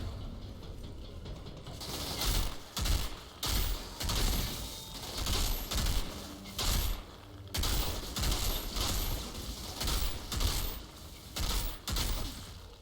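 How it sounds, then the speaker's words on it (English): An automated turret deployed in Outriders fires steady, rhythmic bursts of sharp mechanical shots, repeating again and again at moderate loudness across the whole stretch. "Put a turret out there. Let the turret go."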